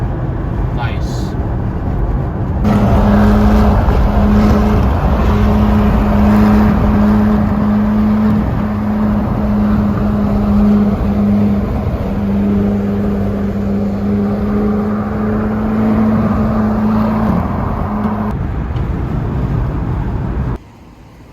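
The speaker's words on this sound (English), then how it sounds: "Ferrari 458." A Ferrari 458 sports car on a street in Taiwan, its engine holding a steady, loud, throaty drone with a strong low hum for most of the stretch before cutting off near the end.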